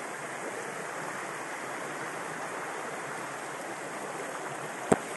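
A river in Sinacaban, Misamis Occidental, flowing over large rocks: steady, broadband rushing water that holds even and continuous throughout, with one brief sharp click near the end.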